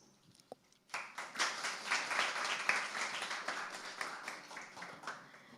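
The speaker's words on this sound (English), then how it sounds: "Please give a big applause." Audience applause breaks out at a model UN mock trial of the International Court of Justice, a steady dense clapping that starts after a brief quiet moment and holds at an even level.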